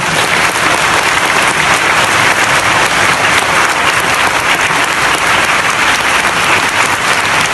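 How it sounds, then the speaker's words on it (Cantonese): An audience applauds at a London book launch by Chris Patten, a loud, dense, unbroken wash of many hands clapping together throughout. "所以你哋要再俾多次掌聲佢。"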